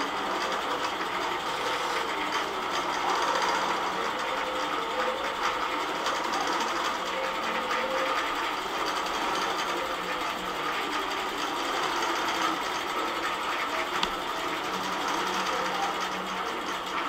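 A quilting sewing machine stitches a Japanese Wave pantograph pattern in natural white thread across a quilt, a steady, close, continuous mechanical whir that holds at an even level throughout with no talking.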